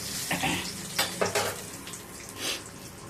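Brief bursts of sizzling and frying as urad dal and chana dal temper in hot oil, with a few soft clinks, steady crackle underneath, close by.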